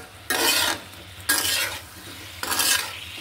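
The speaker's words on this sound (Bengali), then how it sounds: "এটা আমি একটু কষিয়ে নিব।" Taro being sautéed with spices and a little salt in a pan, three loud bursts of sizzling and stirring with quieter frying between them, close up and with no talk.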